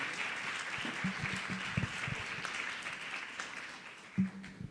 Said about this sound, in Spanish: les quiero pedir un muy fuerte aplauso para que recibamos a Mauricio Toro